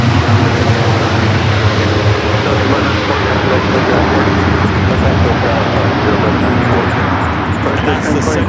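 American Airlines jet on its takeoff roll from LAX runway 24 left, a loud continuous engine roar filling the whole stretch.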